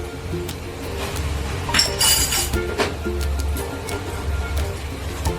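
Fennel, cumin and nigella seeds tipped into a hot dry pan for a zero-oil capsicum curry, a brief clinking scatter followed by light ticking and rattling against the metal, close up.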